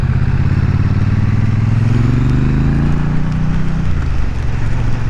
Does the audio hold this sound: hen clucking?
no